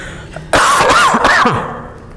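A person coughs in a school setting, a sudden loud cluster of rough coughs and throat clearing lasting just over a second, then fading into quiet room tone.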